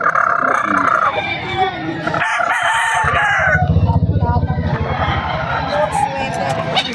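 A White Kelso stag rooster crows at the Bocaue pet market, its drawn-out call rising over a steady bed of market chatter and someone talking nearby.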